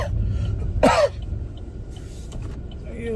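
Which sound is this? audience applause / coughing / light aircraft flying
coughing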